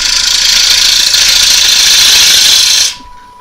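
A wood lathe turns down a tenon on a rough piece of wood, producing a loud, steady whirring hiss that cuts off sharply near the end.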